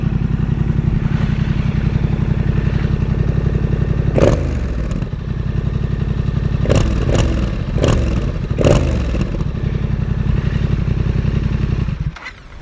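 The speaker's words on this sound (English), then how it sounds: "So there it is, Yamaha XSR700 SC Project exhaust." A Yamaha XSR700 motorcycle with an SC Project exhaust idles loudly and close, with a steady deep rumble broken by several sharp throttle blips and rattly clatter before it cuts out at the end.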